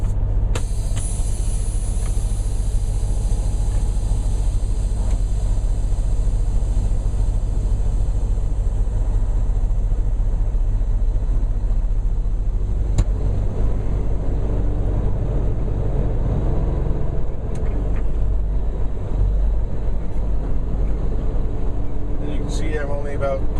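A heavy truck engine with a 13-speed manual transmission drones steadily at light throttle as it's shifted through low gears, low rumble constant throughout with rising and falling revs, a voice talking over it.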